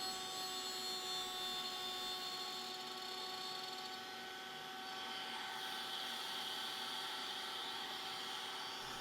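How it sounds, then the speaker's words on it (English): A router table cutting a stop dado in a wooden board gives a sustained high-pitched whine, steady and close, with a slight shift in tone as the piece is fed across the bit. "So I'm just set up here at the router table to do a stop dado, just dropping the piece down, carefully going across to my layout line"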